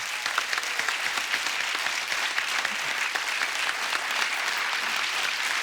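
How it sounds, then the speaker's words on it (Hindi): Studio audience applause for a film cast on a comedy talk show: steady, dense clapping throughout, moderately loud and even, with no talk over it. "एक बार जोरदार तालियां हंगामा 2 की सुपर टैलेंटेड कास्ट के लिए"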